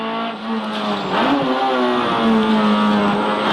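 A Honda DC2 Integra rally car with a K20 engine launches and accelerates at a rallysprint, its loud close engine drone climbing briefly, then holding a steady strained pitch throughout with no voices.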